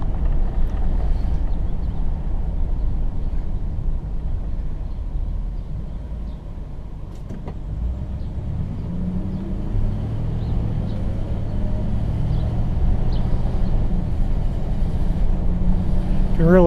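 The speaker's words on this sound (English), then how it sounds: "I'm just driving and holding the camera out." A 1960 Pontiac, a barn find with fresh paint, drives along in daylight with a steady low engine rumble and road and wind noise buffeting a camera held out the window, continuous and fairly loud throughout.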